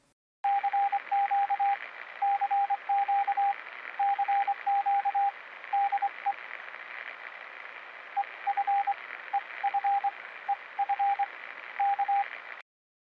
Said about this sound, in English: You will receive a radio signal called Radio Signal Echo Foxtrot, which is in Morse code